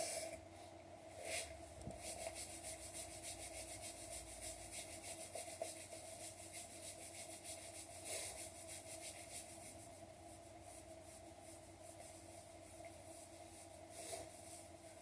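Hands rubbed briskly together to build warmth, a continuous close dry friction hiss lasting throughout with slight surges in intensity, no talking.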